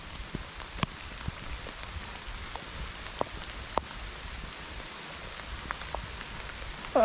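Rain falling on the leaves of a conker tree, a dense steady patter with sharper individual drops ticking in now and then, heard from underneath the tree with no voices.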